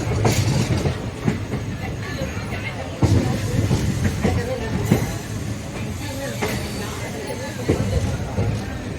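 A 24-coach train rumbles past nearby with rhythmic clickety-clack of wheels over rail joints, under a background of murmuring voices.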